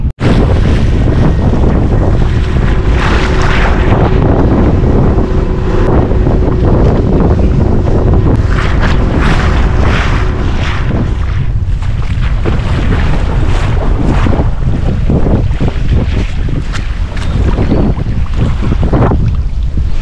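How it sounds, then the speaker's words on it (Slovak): Strong wind buffets the microphone without letup on open water during a fishing trip, a loud roaring rumble mixed with the wash of waves and no voices. "Tak nám to fúka fajne."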